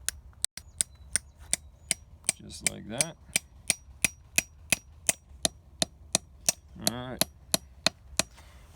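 A spout is tapped into a maple tree with a steady series of sharp, evenly spaced hammer taps, about two per second, close and crisp, with brief speech between some strikes.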